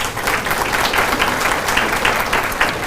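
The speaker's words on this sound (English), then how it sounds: "let's give all of our sponsors a big round of applause" Sustained audience applause for sponsors at a Chesterfield County and Virginia State University business breakfast, dense steady clapping from a room full of people, moderately loud and close, with no voices on top.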